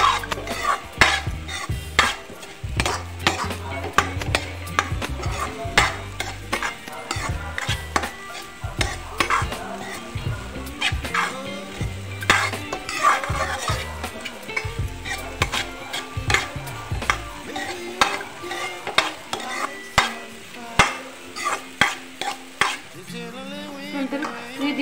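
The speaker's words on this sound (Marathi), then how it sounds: "ते सतत फिरवत राहायचं जेणेकरून हे सर्व मिश्रण एकत्र होईल" A spoon stirs sweet chivda made from leftover chapati in a pan, giving steady, close scraping and rattling strokes in an irregular rhythm throughout, with no one speaking.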